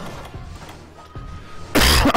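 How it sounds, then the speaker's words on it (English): Someone coughs and clears their throat close to the microphone during a Monster Hunter 3 Ultimate stream, a harsh, loud burst near the end after quieter rustling background. "Bloody hell, stop coughing."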